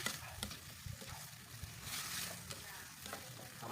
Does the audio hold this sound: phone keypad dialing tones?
no